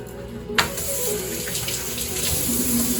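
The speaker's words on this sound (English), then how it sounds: "First step, wash our hands." Tap water runs steadily into a sink while hands are washed, a close, continuous splashing hiss that begins with a sharp gush and holds through to the end.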